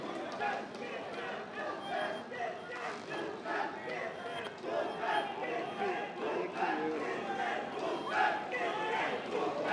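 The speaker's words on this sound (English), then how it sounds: "The loud crowd is in lot support of Bhupen right here" Loud crowd of fans at a match cheers and shouts in support of a competitor, a dense, sustained roar with raised voices mixed in throughout.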